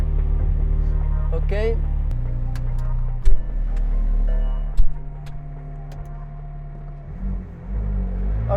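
A McLaren Senna at the Paul Ricard circuit is switched on and idles with a deep, steady engine rumble and hum, a few sharp clicks from the cabin over it, and a brief spoken word.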